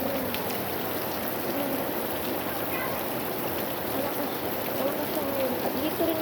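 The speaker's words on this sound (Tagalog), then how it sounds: "Lakas ng ulan, lakas din na ang tulo ng ulan." Steady, dense hiss of heavy rain falling on a bahay kubo (nipa hut) whose roof is leaking, constant and enveloping throughout, with no distinct voices.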